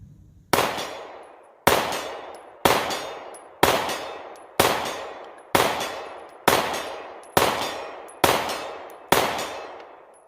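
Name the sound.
pistol shots from a Bul Armory Tac Pro 4.25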